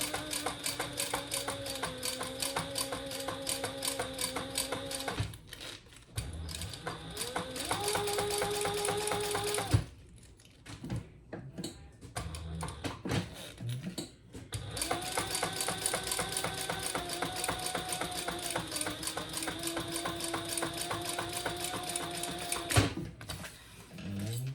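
A sewing machine top stitches a fanny pack wristlet in long runs of fast, even mechanical chatter, pausing briefly between passes, close and moderately loud with no talking.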